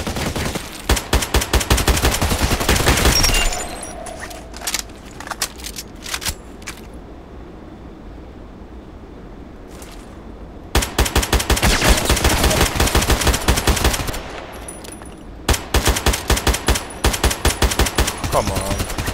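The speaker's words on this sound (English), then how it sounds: "I go on single shot to save some some rounds." AKMS rifle fire in the video game Contract Wars, with loud rapid bursts of gunshots and a quieter gap in the middle where single shots are heard.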